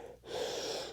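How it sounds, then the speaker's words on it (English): A single big inhaled breath during a power yoga session, a close, airy intake that swells after a short pause and holds steady for under a second. "Take a big breath in."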